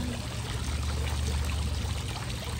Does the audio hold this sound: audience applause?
no